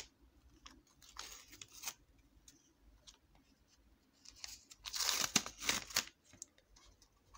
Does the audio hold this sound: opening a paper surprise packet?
yes